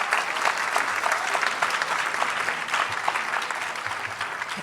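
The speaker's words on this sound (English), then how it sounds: "Yes, you can clap for that." An audience at a lecture series on slavery and freedom claps, gathered in person for the first time in three years, a full, even round of applause that holds steady throughout with no talk over it.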